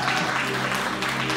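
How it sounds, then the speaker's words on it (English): Church congregation clapping in praise during a communion service, a short burst of dense hand claps over sustained organ or keyboard tones. "give God a hand clap for praise"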